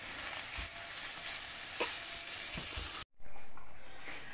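Chicken sizzles and fries in a pan while being stirred, giving a steady hiss with scattered scraping knocks, quiet and close, with no talk.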